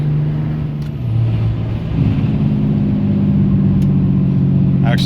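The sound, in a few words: car accelerating at full throttle through the gears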